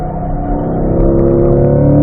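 Car accelerating out of a corner on a racetrack during a driving session, a loud, close engine drone rising steadily in pitch and volume under load, heard alone.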